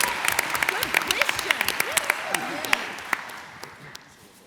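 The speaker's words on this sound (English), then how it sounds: "Can we get a round of applause" An audience at a Power Rangers convention panel bursts into applause, dense clapping with a few sharp individual claps and brief cheers, fading toward the end.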